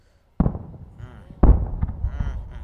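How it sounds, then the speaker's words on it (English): Two firework bursts in a song, each a sharp boom followed by crackling and whistling sparkle that fades, the second louder, with a brief near-silence before the first. "so I decided to throw in some fireworks effects"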